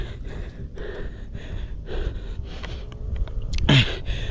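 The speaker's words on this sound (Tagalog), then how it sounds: "Grabe hingal ko." Heavy, rapid panting from someone out of breath after climbing steep steps to a sky plaza in the heat, ragged breaths with sniffs and a sharp gasp near the end, close and alone.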